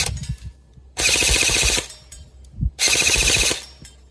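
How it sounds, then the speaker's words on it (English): A Lancer Tactical Gen 2 M16 airsoft gun fires two loud full-auto bursts outdoors, each a rapid rattling stream lasting close to a second, with a short pause between them. "this is the shooting test of the Lancer Tactical Gen 2 M16"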